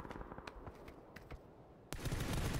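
Gunfire in PUBG during a competitive esports match, with scattered distant shots crackling for two seconds before a sudden loud burst of close, rapid fire.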